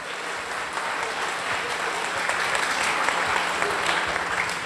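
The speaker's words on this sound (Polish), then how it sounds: "Wielkie brawa." Dense, steady applause from a school audience at a high school's 70th anniversary jubilee, filling the whole stretch at an even, fairly loud level with no voice over it.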